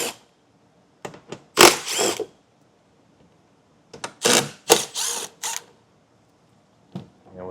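Three 10mm bolts come out of a 2025 Kia behind a taillight panel, with short bursts of a power driver or ratchet whirring close by, separated by pauses and small clicks.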